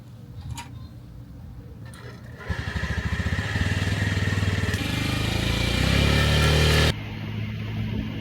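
A scooter engine idles and then revs up steadily during a solo trip on Jeju Island, loud and close, with a steady ticking pulse, then drops back down.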